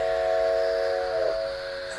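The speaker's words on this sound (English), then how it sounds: "behind her, a train whistle sounded" A steady, sustained train whistle with layered tones sounds for about a second and a half, then drops in pitch and fades, leaving a faint hiss.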